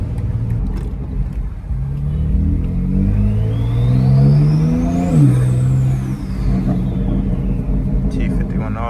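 Car with a T51R turbo revs, a loud, deep engine rumble rising and falling with a whistling turbo spool climbing and dropping around the middle; a person talks over it throughout.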